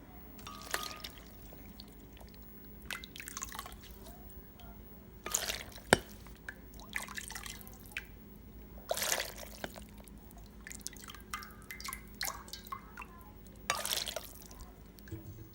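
Leftover meat broth is poured into a pot while cooking barbacoa, with intermittent splashing gushes and drips between quieter stretches, close and soft.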